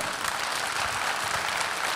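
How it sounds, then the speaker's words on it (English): An audience at a new home sales seminar applauds in a continuous, even wash of many hands clapping, moderately loud, with no talk over it. "let's applaud them"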